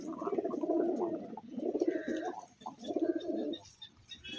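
Several pigeons coo close by in low, rolling, repeated phrases, with soft overlapping calls and no talking.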